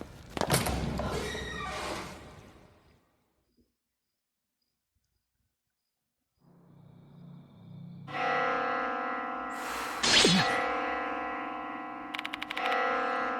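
Church bell tolling in the horror video game Death Mark 2, a resonant ringing strike that swells and sustains with rich overtones after a quiet pause, preceded by a heavy thud and eerie ambience.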